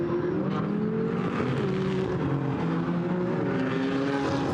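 GT4 race cars, an Aston Martin and a McLaren, drive in close company at Paul Ricard, with loud, continuous engine roar and several overlapping, shifting engine tones sustained throughout.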